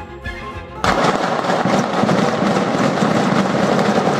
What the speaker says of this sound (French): 300 cartouches tirées.